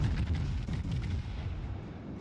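Naval guns boom in a warship battle video game, aimed at the German battleship Kurfürst, with a dense low rumble of heavy gunfire and explosions rolling continuously through the short stretch.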